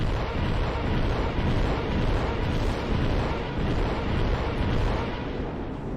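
Salvos of LRM missiles fire and rain down in MechWarrior Online, heard as a continuous roaring, rumbling barrage of launches and impacts that stays loud and dense for the whole stretch, with no talking.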